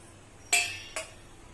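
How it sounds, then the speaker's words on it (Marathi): A small spoon clinks twice against a plate while it is greased with oil for upvas dhokla. The two close, bright metallic taps come a moment apart over quiet background. "इनो टाकायच्या आधी प्लेटला तेल लावून घेऊ आपण।"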